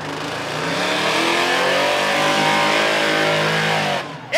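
A big Ford drag racing truck with loud pipes revs hard at a spectator drag night at Rockford Speedway, roaring loudly and steadily for several seconds, rising in pitch, then cuts off abruptly near the end.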